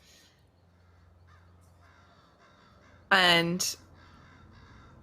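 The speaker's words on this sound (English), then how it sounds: "listen to that nighttime silence of the birds, the odd caw here and there" A crow caws loudly in one close, harsh burst at night, heard against near-silence with a faint low hum and a brief spoken word just before.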